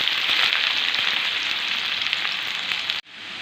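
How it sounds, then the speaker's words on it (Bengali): Onion sizzles steadily in hot oil in a pan while cooking for chicken kosha, a close continuous fry with faint crackles, then cuts off abruptly near the end, leaving a soft low hiss. "দিয়ে পেঁয়াজটা একটু ভাজা ভাজা হতে দেবো।"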